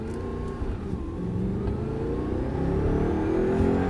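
An Audi R8 V8 engine accelerating hard, its roar climbing steadily in pitch as it pulls through second gear, loud and close, with no voices.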